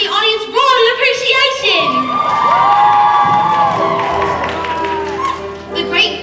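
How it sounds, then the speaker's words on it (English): An audience at a stage musical cheers and shouts loudly, with children's voices rising and sliding in excited whoops over scattered clapping, continuous and close. "the audience roared in"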